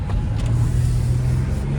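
BMW 440i Gran Coupe xDrive with muffler and resonator deleted, heard from inside the cabin as a steady, loud low exhaust drone that holds continuously with the windows down.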